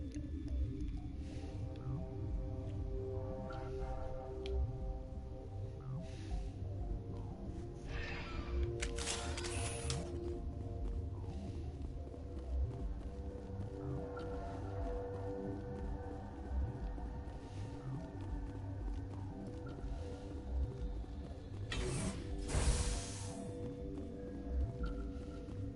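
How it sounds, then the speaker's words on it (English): Elevator ride at Noveria's Rift Station in Mass Effect: a steady low mechanical hum and drone with layered tonal whirs, a couple of brief swooshing bursts along the way, continuous and moderately loud with no talking. "I love riding the elevator."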